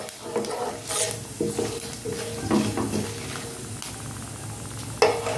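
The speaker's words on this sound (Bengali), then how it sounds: "গোটা জিরে দিলাম, দিয়ে জাস্ট একটু ভেজে নেব।" Whole cumin seeds frying in a pan for dalma, a soft sizzle broken by several clinks and scrapes of a spoon against the pan, close and without talk.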